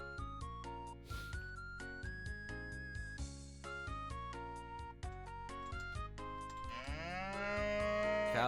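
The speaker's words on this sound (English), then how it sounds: "Cow goes moo." Cartoonish cow moos from an RPG Maker game, a few drawn-out lowing calls layered over a busy, looping chiptune-style background melody, fairly quiet and steady throughout.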